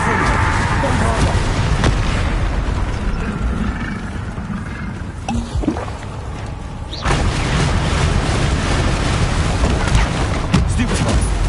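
Bombarda and Confringo spell explosions in Hogwarts Legacy, dense booming blasts rolling one after another, loud and continuous with a sharp break midway, over a heavy rumbling game soundtrack.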